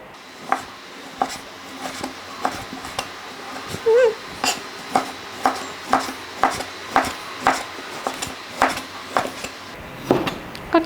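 A knife slices ingredients on a cutting board for a Thai-style spicy-sour pork salad, giving about twenty crisp, evenly spaced chops at a brisk steady rhythm, close and clear over light kitchen background noise.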